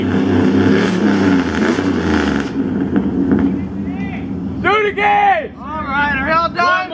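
A Chevrolet Tahoe engine roars in a loud rev at an outdoor truck meet, then drops away while people shout and chatter close by.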